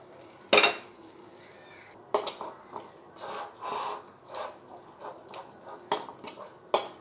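Meal maker curry being stirred in a pan, with scattered metallic clinks and scrapes of a utensil against the pan, a sharp knock early on and softer irregular stirring sounds after.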